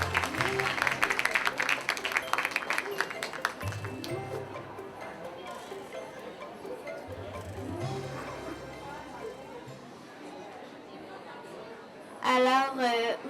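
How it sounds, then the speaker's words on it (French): An audience claps warmly to welcome a guest author to a morning literary interview, brisk applause at first that thins into scattered claps and murmurs before a voice begins speaking at the end. "Je vous demande de les applaudir chaleureusement."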